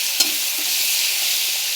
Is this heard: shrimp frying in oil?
yes